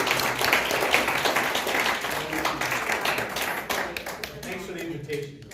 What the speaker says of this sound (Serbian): Još jednom se zahvalimo za Poli Jody, jednim aplauzom